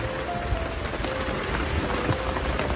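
Rain falls steadily on a leaking roof, giving a dense, continuous patter at close range throughout.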